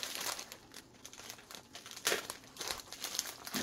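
A Wick Designs OTF knife slicing open a plastic-wrapped package, with steady crinkling and rustling of plastic and a few sharper tearing bursts, close up and without talk.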